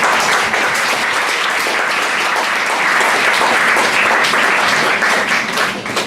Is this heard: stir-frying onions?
no